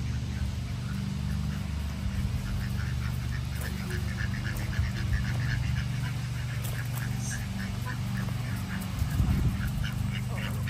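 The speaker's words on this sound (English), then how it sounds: "And ducks." Ducks quack repeatedly in an outdoor farm area alongside other fowl, their calls rising from a loud, constant wash of background noise.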